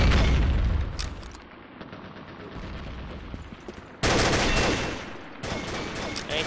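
Video game combat: a heavy blast opens, followed by quieter scattered gunfire, then a loud sustained burst of shooting and sharp cracks in the final seconds.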